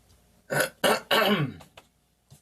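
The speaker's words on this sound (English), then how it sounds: "clearing my throat" A few harsh throat-clearing bursts close to the mic, three strong rasps in quick succession followed by a couple of small trailing sounds.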